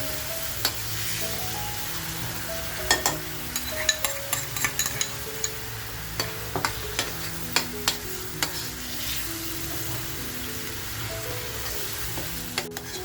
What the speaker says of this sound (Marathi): तो मसाला छान असा तेलामध्ये आपल्याला फ्राय करून घ्यायचे